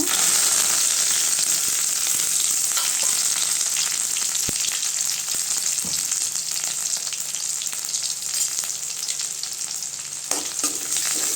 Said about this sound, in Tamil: வெங்காயம் நல்லா வதங்கிடுச்சுங்க